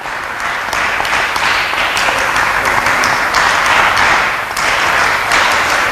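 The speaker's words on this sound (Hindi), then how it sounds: "जोरदार तालियां पाटीदार साहब के लिए" Audience at a public forum event in Khargone applauding a guest, a loud sustained burst of many hands clapping that continues steadily with slight swells.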